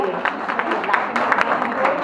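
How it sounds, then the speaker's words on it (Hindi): Guests at a 25th wedding anniversary party applaud, a moderate patter of scattered hand claps with crowd murmur and voices beneath. "चलिए जोरदार तालियां हुसैन के लिए"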